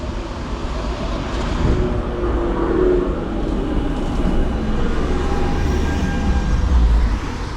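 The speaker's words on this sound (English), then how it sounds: "Our first tram today is the oldest one in the fleet of the tram of Nuremberg." An old Nuremberg tram rumbles along steadily with a low rolling roar and faint wheel squeals, heard from on board.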